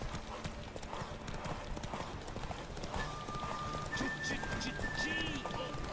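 Hooves clip-clop in a steady galloping rhythm in The Witcher 3: Wild Hunt, moderately close, with a voice talking over it and music-like tones in the background.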